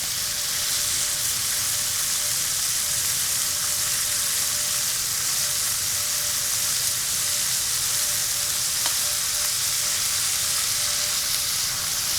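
Pork glazes in cola in a hot pan, a loud continuous sizzle and crackle holding steady throughout with no voices.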